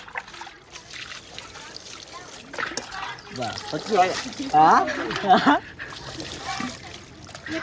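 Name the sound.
water poured onto a hand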